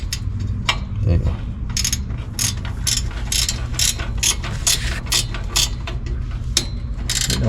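Ratchet wrench clicking in repeated bursts while bolts are tightened during a catless midpipe install on a Dodge Challenger or Charger Hellcat, close and crisp over a low garage rumble.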